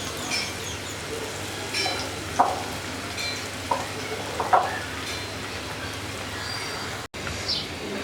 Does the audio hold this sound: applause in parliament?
no